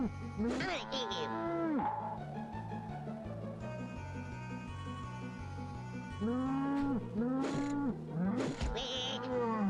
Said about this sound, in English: How many cows are there here?